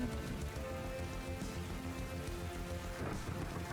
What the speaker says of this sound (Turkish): Ya ama şimşek fırtına yaptı adam onu.